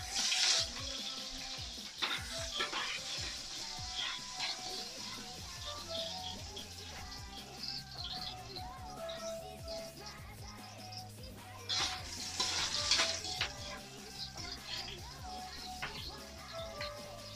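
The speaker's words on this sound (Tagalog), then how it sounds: "Yan, mainit na mantika, lalagay natin yung buyas." Sliced onion frying in hot oil in a pan, a soft continuous sizzle with crackles and occasional stirring clinks, fairly faint and close, with no talk.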